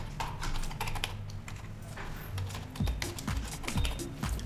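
Steady run of quick clicks from a computer keyboard as a password is typed during an Oracle database install on Windows 10, close and continuous with no talking.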